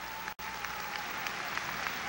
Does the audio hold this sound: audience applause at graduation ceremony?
yes